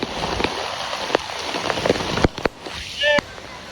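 Rain falls steadily over a village homestead during a monsoon downpour, a continuous wash of drops with a few sharper splashes and thuds, while a voice talks intermittently over it.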